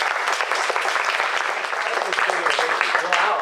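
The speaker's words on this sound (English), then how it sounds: "everyone give Bob a round of applause." Steady applause from a conference audience welcoming Bob Whitson, CEO of iSnap, dense continuous clapping throughout with no clear talk over it.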